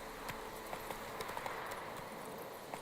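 Hooves of Roach, a horse in The Witcher 3 video game, clip-clopping in a steady quick rhythm, moderately faint under a dense game soundscape.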